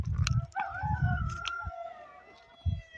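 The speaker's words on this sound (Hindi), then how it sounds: "मुर्गियों की आवाज़ आ रही है, तो यहाँ पे मुर्गी खाने हैं" Several chickens call over one another at a poultry farm, with drawn-out crowing-like cries and low bursts of clucking, fairly close and loud, no talking.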